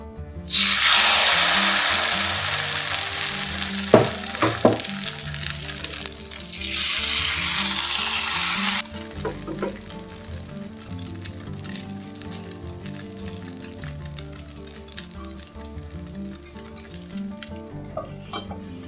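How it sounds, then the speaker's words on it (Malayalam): Vellappam batter tinted purple with cabbage hisses and sizzles loudly in an oiled pan, a dense close frying crackle for several seconds with a couple of sharp knocks, then fading to a quieter background hum. "കുറച്ച് എണ്ണ സ്പ്രെഡ് ചെയ്ത് വെള്ളയപ്പം ചുട്ടെടുക്കാം"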